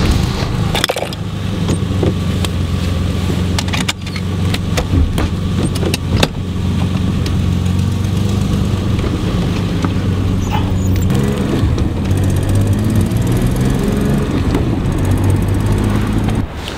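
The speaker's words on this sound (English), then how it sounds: "This is my new car. It's a BMW E30, bit of an old school one." An old-school BMW E30 with push-button start, its engine running at a steady idle, loud and close, a low rumbling drone with clear harmonic hum and occasional mechanical clicks, no talking.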